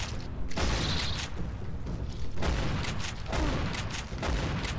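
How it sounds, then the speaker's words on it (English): Shotgun blasts aimed at scorpions in the Jurassic the Hunted video game: loud, dense bursts of gunfire come one after another in quick succession, almost filling the whole stretch. "the shotgun just really makes short work of these scorpions"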